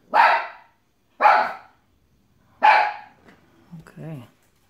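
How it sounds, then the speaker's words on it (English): A small dog inside a house gives three sharp, loud barks at even intervals, then a softer whining yelp at the end, with no talk around it. "here's a little dog"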